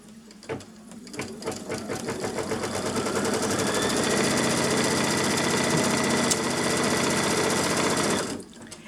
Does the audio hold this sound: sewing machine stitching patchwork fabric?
yes